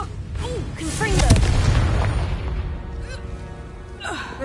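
A Confringo blasting spell goes off in the Hogwarts Legacy video game, a loud booming burst mixed with chaotic combat effects and gasping voice sounds, then fading into scattered crackles.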